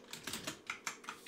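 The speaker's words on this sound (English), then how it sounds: "I'm typing it out individually." Keys on a computer keyboard are tapped in a quick, uneven burst of about eight light, close clicks, with no voices.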